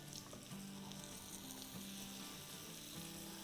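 Fish and masala sizzle steadily on a hot tawa as they are stirred together, a loud, continuous frying hiss with occasional scraping and no talk.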